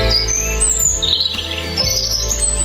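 Songbirds chirp and tweet with high, sweeping calls over a steady musical backdrop in a fairy-tale bedtime story about Rapunzel in her tower, the birdsong continuous and moderately loud with no talking.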